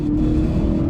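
A 2016 Hyundai Veloster Turbo pulls under acceleration, its engine giving a steady, loud, low drone heard from inside the cabin throughout one second.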